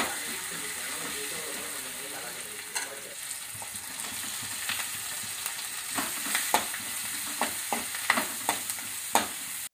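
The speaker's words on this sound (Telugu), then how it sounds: "ఇప్పుడు అదే ఆయిల్లో కొంచెం జీలకర్ర, చిటికెడు పసుపు, కరివేపాకు వేసి ఫ్రై చేయాలి." Cumin, a pinch of turmeric and curry leaves fry in oil with a soft, steady sizzle, joined partway by a series of sharp spoon scrapes and taps against the pan, growing busier toward the end.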